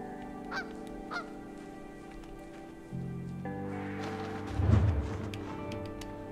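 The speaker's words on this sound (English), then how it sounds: "Honk. Actually, yeah, I'm totally a goose." A goose honks in a video game, two short honks early on, then a louder, fuller honk near the end over a steady ambient drone.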